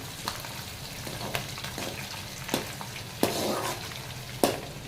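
Garlic sautéing in a pan for a Kerala-style fish pickle, a low bubbling sizzle broken by periodic sharp taps and scrapes of stirring, close by with no voices.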